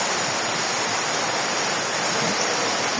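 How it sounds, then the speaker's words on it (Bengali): Very heavy rain pours down in Bangladesh as a dense, steady, unbroken roar of broadband noise that holds level and close for the whole stretch, with no voices. "বৃষ্টি খুবই ভয়ানক বৃষ্টি হচ্ছে"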